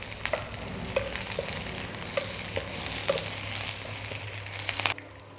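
Chillies and onions tempering in hot oil for Sri Lankan beans with coconut make a steady sizzle and crackle. A utensil scrapes the pan in regular strokes, and the sound stops abruptly near the end.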